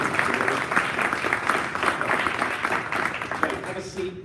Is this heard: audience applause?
yes